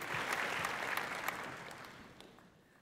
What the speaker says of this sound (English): Can we please give a round of applause to Colonel Sandhu, please?